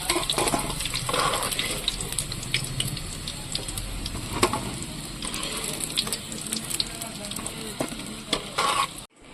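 Chicken pakodi frying in a pan of hot oil, a steady dense sizzle and bubbling that carries on throughout with occasional stirring clinks, fairly close and unbroken by speech.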